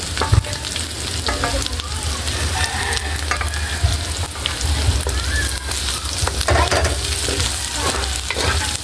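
Meat returned to a hot pan fries with a loud, dense, continuous sizzle and crackle, with occasional clunks of the spatula stirring it, close and without any voice.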